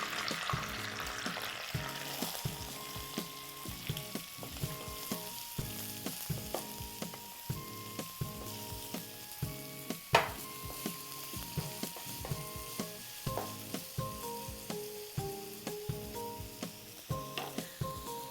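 Onions frying lightly in oil in a pan, with a continuous close sizzle and a regular rhythm of spatula strokes stirring them throughout; no talk.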